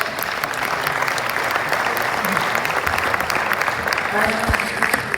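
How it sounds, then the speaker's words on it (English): Audience applause at a hackathon, dense continuous clapping from a room full of people, steady and fairly loud across the whole stretch, with a voice faintly heard over it. "Give a round of applause."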